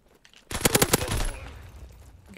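Rapid burst of M267 submachine gun fire in the Call of Duty WW2 video game, a loud rattling string of about eight close shots over roughly a second, then fading into a lingering echo.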